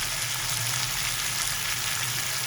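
A kilo of mixed beef with fat and bones fries in oil for a namkeen gosht karahi, giving a steady, close, even sizzle and crackle with no talking.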